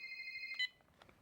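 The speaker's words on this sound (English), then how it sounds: "The phone is ringing." A telephone rings with a steady electronic warble, one short burst of a little over half a second, quiet and alone before cutting off.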